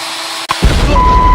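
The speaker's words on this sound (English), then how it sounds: "This tail is a little bit tough, so I'm going to drill a hole into it." A power drill bores a hole into a tough taser tail, starting abruptly after a short click and then running as a close, steady, buzzing whir.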